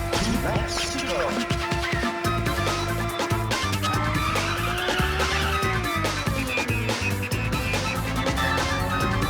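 A fast race car's engine whines and shifts pitch in Ridge Racer Type 4 while tires squeal and skid through corners, with crash-like thumps and game music layered over it.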